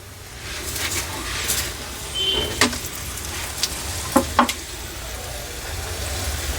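Peanut bhakshalu fry in oil on a pan with a soft, steady sizzle, broken by a few sharp clicks and scrapes and faint background noise.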